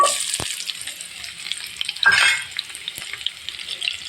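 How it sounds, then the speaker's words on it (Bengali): Chopped paste, dried-fish paste for an aubergine dish, poured into hot oil in a frying pan, a close crackling sizzle that surges loudly midway then settles into steady frying, no voices. "ফ্রাই প্যানে তেল দিয়ে দিছি এখন আমি পেস্ট কুচিটা ঢেলে দেব"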